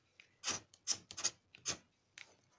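Scratching the coating off a $10 Minnesota lottery scratch ticket: a series of short, close rasping scrapes in uneven bursts, with brief pauses between strokes.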